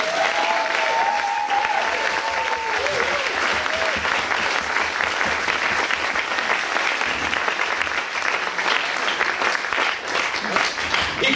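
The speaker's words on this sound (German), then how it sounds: "Ich freue mich immer, wenn er einen Applaus kriegt" A crowd applauds the choir director and organist at a song contest, with long, dense clapping, a few voices calling out briefly near the start, and steady applause continuing throughout.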